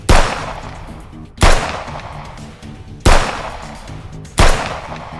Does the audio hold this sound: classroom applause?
no